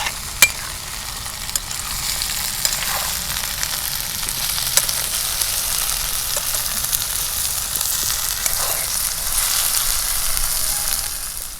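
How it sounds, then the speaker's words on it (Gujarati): Okra and potatoes frying in oil in a pan on a traditional clay stove, a loud steady hissing sizzle with occasional crisp pops and light stirring clicks, continuous throughout with no voices. "ભીંડાને આપણે તેલમાં બરાબર કકડાવવાના છે, જેથી કરીને એમાં ચીકાશ દૂર થાય."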